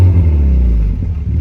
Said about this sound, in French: Vas-y, accélère un peu.